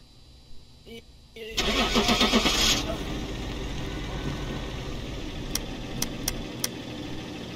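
A vehicle engine cranks and starts inside the horror game Phasmophobia, a loud mechanical burst that settles into a steady rumble, with a few sharp clicks later and voices speaking over it.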